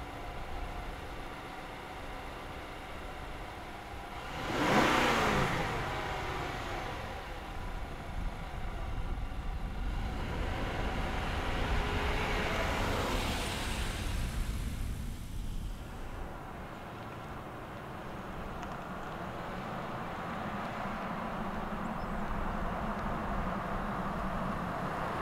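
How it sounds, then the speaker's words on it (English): A 2022 Infiniti QX80 Sensory 4WD hums steadily on the road, with engine and tyre noise heard from inside the cabin. A few swelling whooshes come from passing traffic. "now it's time to get this thing out on the road, take it for a drive"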